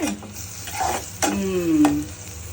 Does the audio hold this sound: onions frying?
yes